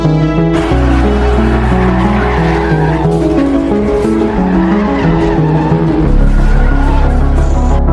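A hijacked police car screeches away with its tires skidding, loud and continuous for several seconds under a dense, layered backdrop.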